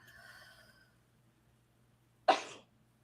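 One sharp, explosive sneeze bursts out close by after a brief stretch of quiet, with faint voices fading just before it.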